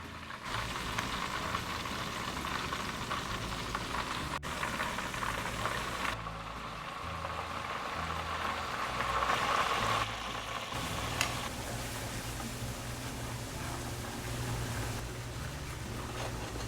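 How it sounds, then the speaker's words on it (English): Chicken thighs deep frying in hot oil give a steady, loud, close sizzle with dense crackling and bubbling that runs unbroken, with no voices over it. "Now I'm gonna let my thigh continue frying until it's ready to go."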